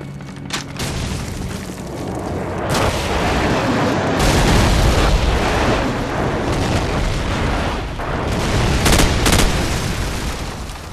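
Airstrike explosions in Call of Duty 4 rumble loudly and continuously, with heavy booming blasts rolling over each other and sharp cracks of gunfire scattered throughout.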